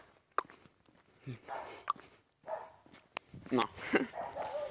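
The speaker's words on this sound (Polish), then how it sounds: "pieski szczekają jak zawsze" Dogs bark during an outdoor walk: several short, sharp barks scattered through the clip, some near and some farther off, with footsteps and faint voices around them.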